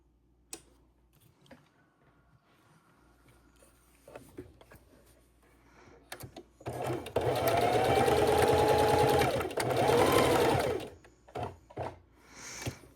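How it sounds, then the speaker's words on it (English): A sewing machine runs in a steady, rapid whirring stitch for a few seconds, stops briefly, then runs again, with quieter handling clicks before and after. "we're going to bring it to the sewing machine and start stitching"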